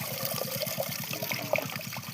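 Leafy greens being washed by hand in a vessel of water for a home-cooked curry, with continuous close trickling, sloshing and dripping in a quick, regular rhythm.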